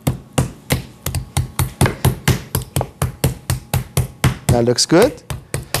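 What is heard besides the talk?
pounding chicken breast flat with a mallet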